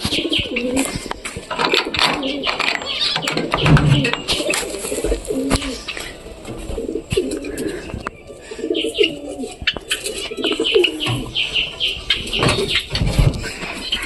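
Pet birds in a home aviary coo, chirp and call over one another in a dense, close chorus, with occasional wing flaps and a few faint voices.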